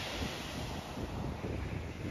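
Sea waves breaking and washing on the shingle shore of Chesil Beach under an overcast November sky, a continuous rushing surf roar mixed with wind buffeting the microphone, steady and fairly close with no talk.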